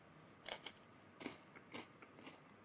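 Crisp bites and crunchy chewing of a seasoned seaweed (gim) snack eaten with a rum and cola drink, a few sharp crackly bites up close followed by softer chewing crunches, with no talking.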